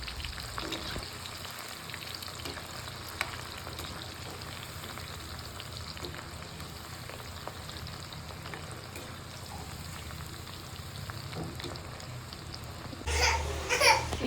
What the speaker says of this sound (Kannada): ಸೊ ಬನ್ನಿ ಇವಾಗ ಅದನ್ನು ಎಣ್ಣೆಗೆ ಹಾಕೋಣ